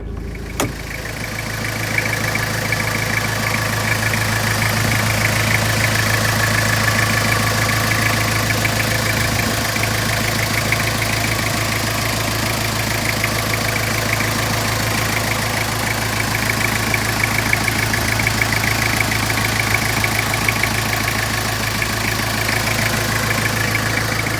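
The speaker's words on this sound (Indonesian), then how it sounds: "Jadi ini dia suara mesinnya masih garing banget." A 2003 Toyota Kijang LGX diesel engine idles steadily close by, with an even, unbroken clatter and hum that holds its level from start to finish and has no voices over it.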